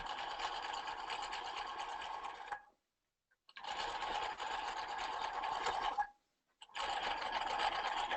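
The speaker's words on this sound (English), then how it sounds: "Now I want a really long basting stitch. And I'm going to sew the original back together." A sewing machine runs a long basting stitch in three sustained bursts of steady whirring, each cut off by a short silent pause, close and alone.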